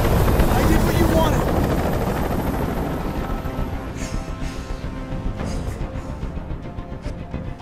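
Loud, dense helicopter rotor and engine roar in the video game Detroit: Become Human fills the clip, steady throughout, with a faint voice under the din.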